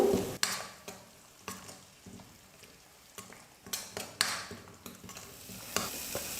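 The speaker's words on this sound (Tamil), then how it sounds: "நல்லா மீடியம் ஃப்ளேமில் வச்சுட்டு 5 நிமிஷத்துக்கு நல்லா வதக்கிக்கிட்டேன்" Mint paste sautéing on a medium flame for a lunch-box rice dish, with a steady soft sizzle broken by repeated scrapes and clinks of a spoon stirring against the pan.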